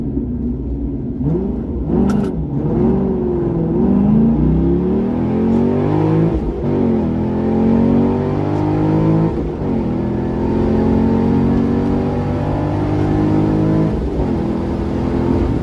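A C6 Corvette with an LS2 V8 and a FAST LSXR 102 intake manifold accelerating hard, a deep engine roar climbing in pitch through several gear changes, loud and heard from inside the car.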